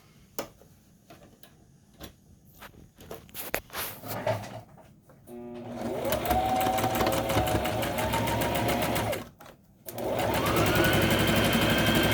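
Sewing machine stitching a half-inch seam on a tote bag, starting with scattered ticks and clicks, then running in a loud, fast, steady whirring rattle for several seconds, pausing briefly, then running again up close.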